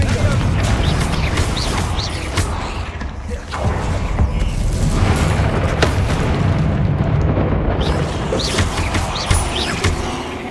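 Confringo and Bombarda spell explosions in Hogwarts Legacy, loud rumbling blasts and crashing debris running continuously with sharp cracks scattered through.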